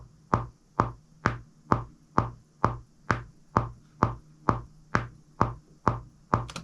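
A percussion beat at 130 BPM hits in a steady, evenly spaced pulse, about fourteen punchy strikes with quickly decaying tails, clear and alone.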